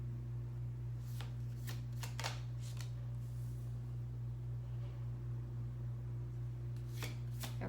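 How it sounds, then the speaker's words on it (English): Tarot cards being drawn and shuffled from a deck during a reading, a handful of quick crisp riffling snaps in two bursts over a steady low electrical hum. "let me get a couple more cards for this"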